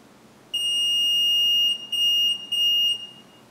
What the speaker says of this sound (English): hearing a beep of the horn on the hoist